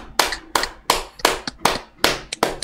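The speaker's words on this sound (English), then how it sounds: "Clap it up for yourselves. Everyone clap." People at an outdoor youth boot camp clap together in a loose rhythm, about seven sharp, close claps, each with a short ragged tail.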